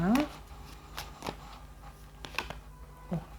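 Quick flicking and riffling of tarot cards being shuffled in short bursts, close and crisp, with light handling noises between them.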